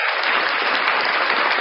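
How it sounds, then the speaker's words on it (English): A short burst of clapping from a small group, a dense, even patter of hands that stays steady for just over a second, with no voices over it. "a round of applause for that"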